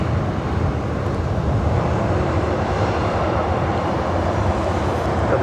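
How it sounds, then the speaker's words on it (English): Southwest Airlines Boeing 737-800 jet airliner, Flight 3490 to Denver, at LAX: a continuous low engine rumble, fairly loud and steady, with no talking. "We also have Southwest Airlines Flight 3490 heading to Denver, 737-800"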